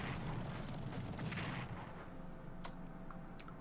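Cavalry fire in the Strategic Command: World War I game, a dense rumbling bed of artillery and gunfire with a few sharper reports cracking through near the end, steady and loud throughout.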